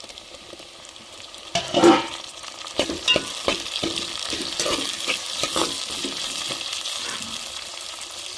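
Onion and green chili sizzle in a hot pan as chopped tomato goes in, a steady fry hiss with stirring scrapes and a few louder bursts as the pieces hit the oil, with no talk.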